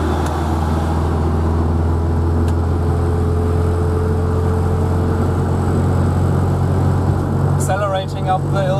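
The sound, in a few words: Opel Olympia Rekord 53 accelerating uphill at full throttle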